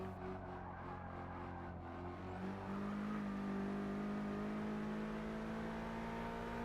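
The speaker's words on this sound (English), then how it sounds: "this car picks up speed really easily and really well" A car in Forza Motorsport 6, from a heavyweight executive-sedan race, accelerates hard, its engine note rising steadily and then holding a loud sustained pitch with no talk.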